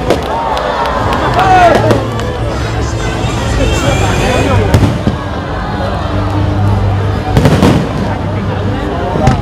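An aerial fireworks display bursts over a fishing harbor during the crowded opening festival of a tourist fish market at Jiangjun fishing harbor. Loud, continuous booms and crackles are layered over the babble of a large crowd.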